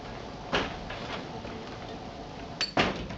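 A door closing inside a demonstration hall: two or three soft knocks and thuds spread over a few seconds, the loudest near the end, heard over quiet room tone with no talking.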